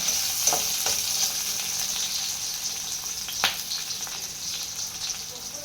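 Onion, garlic, green chili and ginger sautéing in a pan, with a steady bright sizzle and occasional sharp spoon taps and scrapes against the pan, close, no voices.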